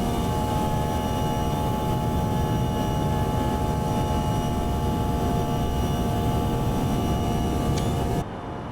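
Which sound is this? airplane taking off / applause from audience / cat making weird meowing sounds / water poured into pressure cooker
airplane taking off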